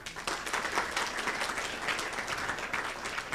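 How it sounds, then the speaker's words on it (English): An audience at a research and policy symposium applauds three panelists with steady, moderately loud clapping that fills the room without pause. "please join me in giving a really, really thunderous applause to our three panelists"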